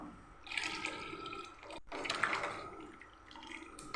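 Tamarind water splashes and pours into a cooking pot in two bursts separated by a brief pause, close by and moderately loud, with a trickle continuing afterward.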